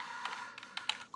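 Soft, quick keystrokes on a computer keyboard while C# code is entered, a short irregular run of faint taps close by, with no speech over them.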